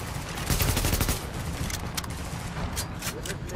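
Rapid bursts of gunfire ring out in the video game The Division, crackling shots stacking into dense fusillades throughout the short stretch.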